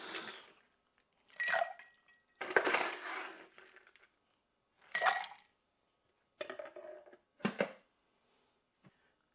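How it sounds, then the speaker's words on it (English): Ice cubes dropped into a cocktail glass, several separate sharp clinks and clatters spaced out over a few seconds with quiet gaps between, close and clear. "Next, I'm going to add some ice."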